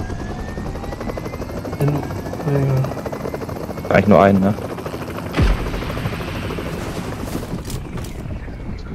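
A helicopter's rotor thumps steadily and loudly throughout, with brief bursts of gunfire-like cracks and people talking over it, in the video game PUBG Mobile, Payload mode.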